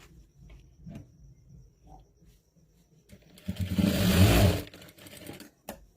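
A sewing machine runs one loud, close burst of stitching across pleated fabric on a crop top, preceded by faint handling noises and quiet pauses.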